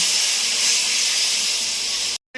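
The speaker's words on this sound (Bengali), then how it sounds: "মশলা ছিল বাটিতে ধুয়ে জল দিয়ে দিল" Water poured into a hot pan of whole spices hisses and sizzles loudly and steadily for about two seconds, then cuts off abruptly.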